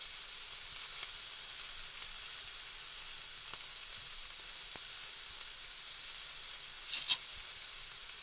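Spinach and potato bhaji fritters fry in hot oil over low heat, a soft, even sizzling hiss running the whole time with a couple of brief louder crackles near the end, fairly quiet and close, no voices.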